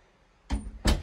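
The front door of a home opens with two sharp, close bursts, a latch click followed by a louder clunk as it swings, against quiet room tone.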